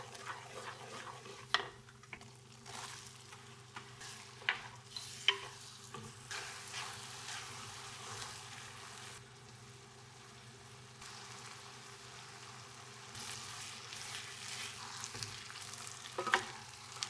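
Onions frying in ghee with jaggery in a pan for a tadka, a steady close sizzle and crackle running throughout with occasional sharper pops and stirring scrapes.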